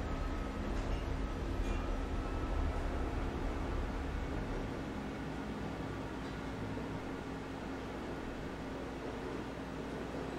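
Interior train ride in the video game Black Mesa, a steady rumbling rail-car drone with low hum and faint hiss, continuous and fairly loud throughout with no talk.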